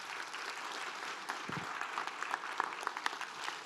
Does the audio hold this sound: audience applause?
yes